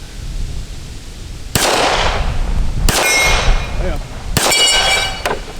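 Three sharp metallic clangs of .45 bullets from a Remington R1 1911 pistol striking a hanging steel plate target outdoors, each a loud ringing hit spaced about a second and a half apart, with a brief spoken word between them.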